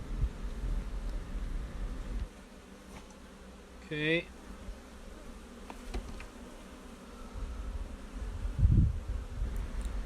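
Honey bees buzz around an opened backyard hive during requeening, a faint high drone with one louder bee passing close by and a low thump near the end; a person briefly speaks.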